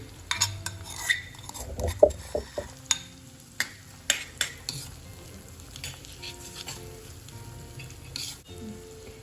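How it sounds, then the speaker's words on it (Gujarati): A spoon scrapes and clinks against a pan as garlic chutney is stirred into cooking tomatoes, a run of sharp metallic knocks over a low sizzle that eases into quieter stirring. "હવે આપણે જે આ લસણની ચટણી બનાવી છે એ એડ કરીશું"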